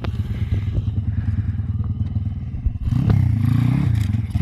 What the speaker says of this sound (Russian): здесь народ катается на байках, крутяк